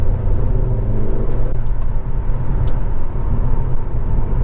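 A 2001 Audi TT 1.8 T Quattro roadster's turbocharged engine runs steadily while driving, a loud, continuous low rumble and whir with no breaks.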